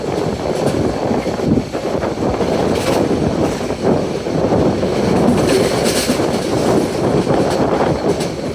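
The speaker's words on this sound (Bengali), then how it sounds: "ট্রেনটি শশীদলে দাঁড়িয়ে রয়েছে দেখা যাচ্ছে।" Cox's Bazar Express train at Shashidal station, with a constant loud rumble and rattle of rail cars, scattered clanks and wind buffeting across the whole stretch.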